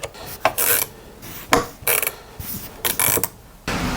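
Half-inch wrench ratcheting on a bracket bolt of a Hercules portable band saw bench-top stand, a series of short clicking ratchet strokes with brief pauses, close and fairly loud.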